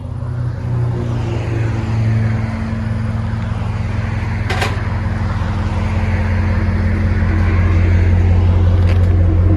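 A 2016 RAM 1500 with a 5.7L HEMI V8 and Flowmaster Outlaw dual exhaust idling, a loud, deep, steady burbling rumble close to the tailpipes, unbroken for the whole stretch.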